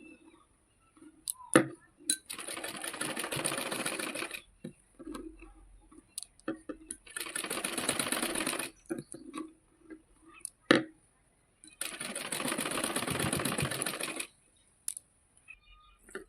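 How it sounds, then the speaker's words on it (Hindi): Sewing machine stitching piping onto a blouse, three loud buzzing runs of rapid stitching separated by pauses filled with clicks and handling taps, close and clear. "इस प्रकार से आपको पाइपिंग निकालते हुए सिलाई को लगाना है"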